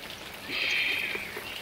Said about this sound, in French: Ça y est, il pleut, il pleut, il pleut.